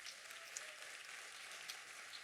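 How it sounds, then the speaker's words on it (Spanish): Quiet applause from a church congregation during a sermon, a soft, steady wash of distant clapping that holds evenly through the short stretch with a couple of faint sharper claps. "Dale un aplauso fuerte a Dios."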